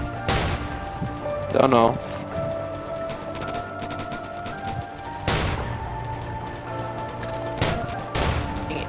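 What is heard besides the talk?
shotgun gunfire in the video game Roblox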